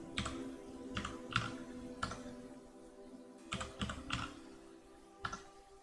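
Irregular bursts of keystrokes clack on a computer keyboard at close range, quick clusters of taps separated by short pauses over a faint steady hum.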